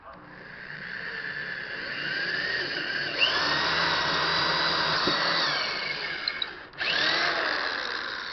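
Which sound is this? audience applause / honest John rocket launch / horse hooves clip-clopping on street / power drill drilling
power drill drilling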